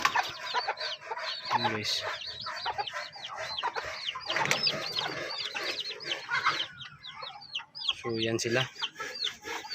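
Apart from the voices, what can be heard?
Brahma chickens clucking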